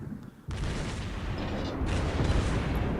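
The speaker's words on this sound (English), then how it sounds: "So there's those secondary autos kicking in. You can tell because they're firing HE." Secondary guns firing high-explosive shells on a German battleship in World of Warships Blitz, a dense continuous barrage of booming gunfire that starts abruptly and stays loud and close with no pause.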